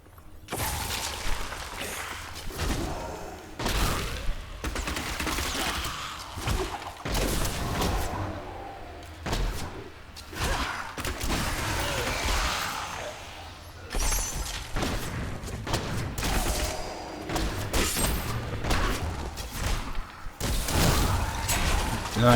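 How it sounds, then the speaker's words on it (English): Repeated booming blasts and crashing impacts burst from a busy video game, with whooshes and clattering in between. "Nice big explosion, hurting all those skeletons around me."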